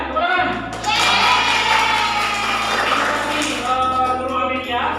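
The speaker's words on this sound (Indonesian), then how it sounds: "Tepuk tangan." Classroom applause at the close of an Indonesian-language lesson on sermon texts, a broad steady wash of clapping from students lasting the whole moment, fairly loud with crowd noise blended in.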